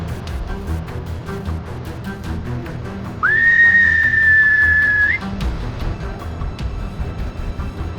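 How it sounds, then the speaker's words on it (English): A single loud, sustained whistle from a person calling others outdoors at a nuclear missile base, rising briefly then holding a steady high pitch for about two seconds before a short upturn, over a constant rumbling background. "I'm whistling for you the whole time."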